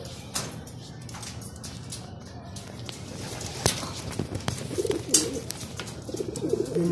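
Pigeons coo softly at a red building outdoors, with low throaty calls rising toward the end over faint background noise.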